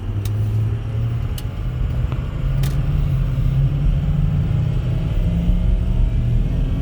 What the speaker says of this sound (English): But it accelerates pretty decently for a diesel.